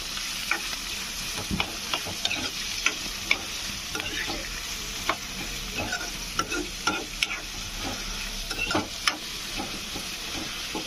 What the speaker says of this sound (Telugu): ఇప్పుడు ఇందులో ఉల్లిపాయ ముక్కలు వేసుకోవాలి. దీన్ని ఇప్పుడు బాగా ఫ్రై చేసుకుందాం